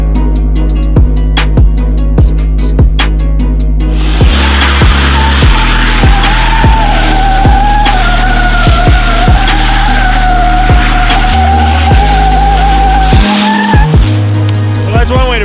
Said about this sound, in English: Really good way to test that diff with the one wheel doing all the burnout.